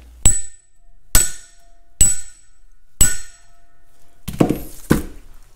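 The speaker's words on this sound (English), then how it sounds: "Here's the new seal. We'll tap that in place." A new bearing seal is tapped into a gooseneck trailer hub, four crisp, ringing metallic hammer strikes at a steady pace, followed by two duller, heavier knocks, close and loud with no talking.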